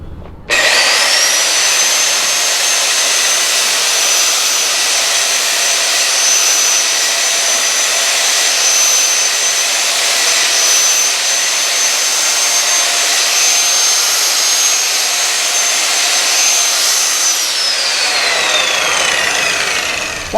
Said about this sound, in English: I'm going to show you how we use a flap disc to accomplish that.